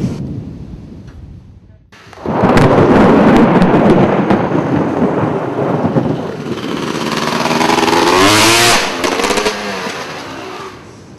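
Loud rumbling thunder from an approaching thunderstorm rolls in suddenly after a quiet start, a long booming roar with a sharper crack near the end.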